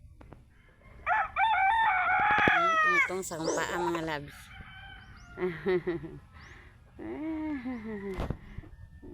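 A rooster crows loudly several times, long drawn-out calls with clucking between, while a person talks nearby.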